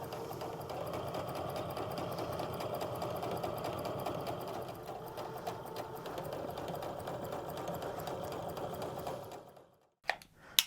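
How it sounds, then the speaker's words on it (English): A sewing machine stitches a quilt block along a marked line with a steady, quiet mechanical whir that runs continuously, then stops, followed by a couple of faint clicks. "we're going to sew on the line"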